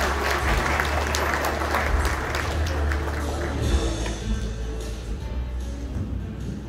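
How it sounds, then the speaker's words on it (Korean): An audience at the Korean Automobile Day ceremony in a Seoul hotel hall gives loud sustained applause to welcome a speaker, the clapping gradually thinning and fading toward the end. "큰 박수 부탁드립니다"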